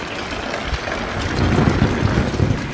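Rain pours down in a village, a loud continuous wash of drops on surfaces with a low rumbling undertone that swells slightly toward the end; no voices.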